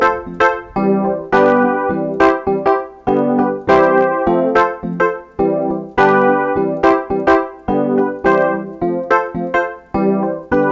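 Piano plays African highlife gospel chops, struck in short, punchy chords with a bouncy, syncopated rhythm, loud and close, heard alone without any talking.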